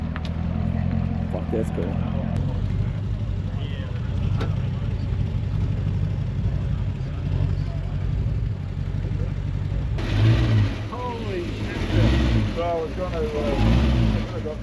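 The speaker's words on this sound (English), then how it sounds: "look at the size of the supercharger on that thing" A supercharged car idles and rumbles at a Cars and Coffee car meet in New Zealand, a steady low engine drone close by, with people talking over it in the latter part.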